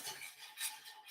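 A whisk scrapes and stirs flour in a cast iron pan, a close, steady metallic rasping with soft swells in rhythm, heard alone.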